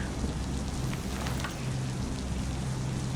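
Steady, dense rain falls continuously in the video game Bloodlust, a close, even hiss of drops on surfaces with no pauses and no voices.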